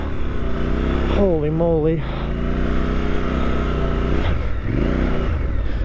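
A 2023 Triumph Scrambler 1200XE motorcycle ploughs through deep sand, its engine droning loud and close and rising into a wavering rev midway, while a rider exclaims over it.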